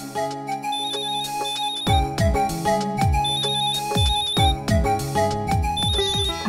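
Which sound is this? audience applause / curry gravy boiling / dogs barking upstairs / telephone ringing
telephone ringing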